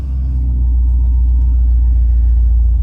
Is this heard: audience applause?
no